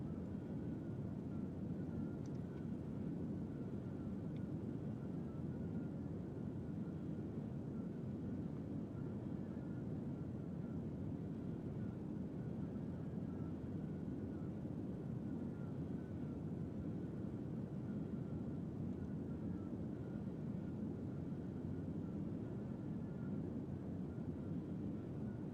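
Steady, unbroken airplane engine drone from a flight simulator game, a low broadband hum holding at an even, moderate level throughout with no talk.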